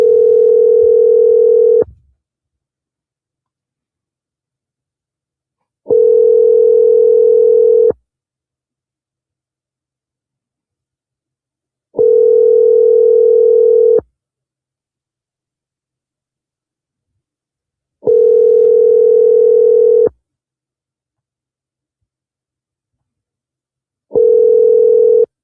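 A telephone ringback tone sounds five times, each steady burst about two seconds long and separated by roughly four seconds of silence, loud and clear with no talk.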